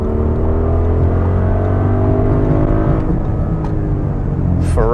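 A 2023 Audi RSQ8 accelerates hard, its engine drone rising steadily in pitch through a long pull, loud and continuous from inside the car, with a brief shift-like break near the end.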